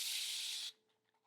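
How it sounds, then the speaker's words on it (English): A spray bottle puts out a continuous fine mist, a bright steady hiss lasting well over half a second before stopping abruptly into near silence. "you have to see this spray. It's like this continuous stream."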